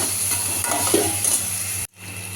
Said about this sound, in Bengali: ওর মধ্যে আলু সিদ্ধটা আগে দিয়ে দিলাম একটু নাড়াচাড়া করে নিয়ে